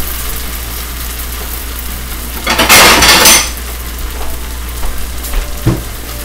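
Chicken fried rice is scooped from a pan onto a plate, a close burst of metal utensil scraping and clattering against cookware, then quieter clinks over a low steady background hum.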